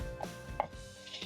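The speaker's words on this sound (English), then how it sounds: "I'm almost done chopping up my pumpkin leaves" Pumpkin leaves being chopped on a board in a home kitchen, a few quiet knife strikes spaced irregularly, one sharper cut standing out over a low background hum.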